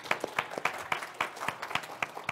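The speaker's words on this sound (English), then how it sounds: "You are correct to applaud." Brief applause from a small group, scattered claps in an uneven rhythm, moderately loud and short.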